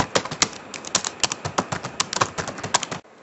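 Bare fists pound on a computer keyboard, producing a rapid, uneven clatter of loud, close key strikes for about three seconds before stopping abruptly.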